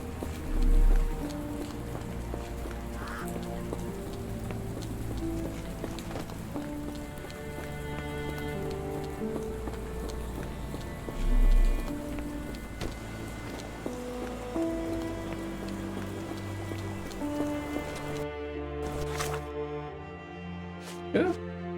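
Steady rainfall in the Sherlock Holmes The Awakened game, a constant patter running throughout beneath a low musical score, with a few soft thumps and a voice speaking over it.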